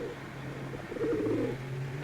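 A homing pigeon coos in a soft, low, rolling burst, moderately close, against a steady background hum with no talk.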